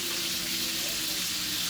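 Fish frying in a pan gives a steady, dense sizzle with a hissing crackle that holds at an even, moderate level throughout, with no pauses.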